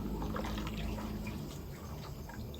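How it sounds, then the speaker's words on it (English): Coconut milk is strained through a sieve while cooking oil is made at home, giving a continuous soft trickle and dribble of liquid up close, low and even throughout. "so from here, we are going to sieve"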